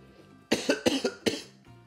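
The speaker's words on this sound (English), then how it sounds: "Gotta cough. Again." A person coughs in a quick burst of about five sharp, loud hacks close to the mic, with a quieter trailing cough after a brief pause, while a Kirby and the Forgotten Land game plays faintly underneath.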